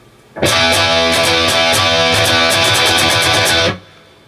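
A distorted electric guitar strums a driving chord pattern of quick down and up strokes for about three seconds, loud and alone, then stops abruptly.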